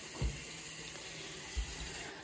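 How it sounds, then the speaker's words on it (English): Water runs from a tap into a tub during a children's sink-or-float game with toys such as a rubber duck, a steady splashing flow with two brief low thumps. "Or you can keep adding water, that's fine."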